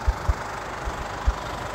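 A diesel-engined vehicle idling close by, a steady low chug with a few heavier knocking thumps spaced irregularly, no talking over it.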